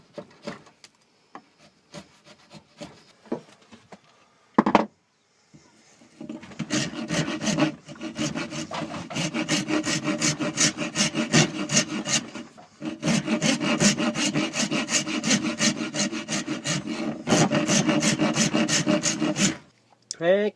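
A chisel scrapes and shaves a wooden knife handle in steady rasping strokes, near and loud, running almost continuously after a few scattered scratches and a sharp knock, with brief pauses between bursts of work.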